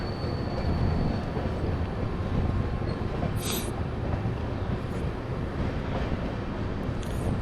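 Train climbing a winding mountain ghat section over the Western Ghats, a loud continuous rumble of wheels on rails with wind buffeting and brief high squeals, no voices.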